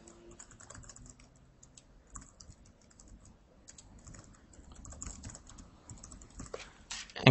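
A template name is typed on a computer keyboard in a quiet room, with soft, close key clicks tapping out in irregular bursts and a louder final keystroke.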